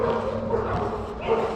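Dogs barking and yipping in a park during a live music event, short repeated barks mixed with crowd noise and people talking.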